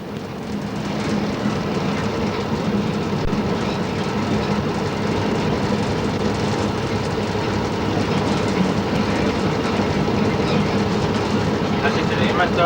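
A train runs through a small rural station on the Gailtal line in Austria without stopping, a steady loud rumble with rail clatter that continues throughout, and no one speaks over it.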